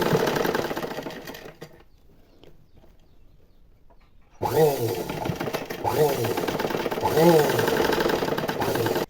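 A sewing machine stitches a blouse shoulder joint, its fast mechanical whirring rattle running close and loud, stopping for a quiet stretch and then starting again in bursts.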